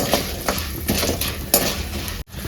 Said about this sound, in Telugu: ఇప్పుడు జీలకర్ర వేసేస్తున్నాము.